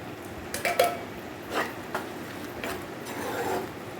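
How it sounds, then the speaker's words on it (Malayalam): Metal spoon scraping and clinking against a pan while egg curry masala is stirred, a few soft irregular knocks and rubs, fairly quiet and close. "നന്നായിട്ട് ഇളക്കി കൊടുക്കണം എല്ലാം കൂടെ ഇളക്കി കൊടുത്ത് നന്നായിട്ട് വേവട്ടെ"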